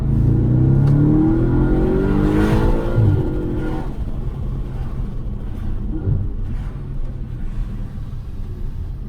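An Audi RS5 engine revs hard under acceleration, a loud close roar rising in pitch, then easing back into a steady lower rumble of cruising road noise.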